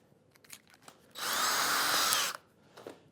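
A power drill drives a screw into plywood on a workbench, one sustained high whine lasting about a second, loud and close, with small handling clicks before and after.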